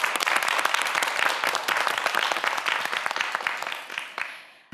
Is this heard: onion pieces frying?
no